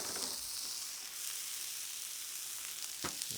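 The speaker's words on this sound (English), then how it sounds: "cooking our onions for our steaks first. Nice hot grill. Onions, oil down." Onions frying in oil on a hot grill for cheesesteaks, a steady broadband sizzle hissing throughout, close and even, with a couple of brief spatters near the end and no talk.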